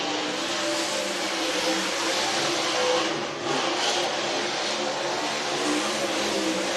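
A race car, number 58, laps the speedway at Whynot Motorsports Park during the Fall Classic, its engine giving a steady, loud roar that holds throughout with only a brief dip midway.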